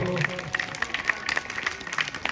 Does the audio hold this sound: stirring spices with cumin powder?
no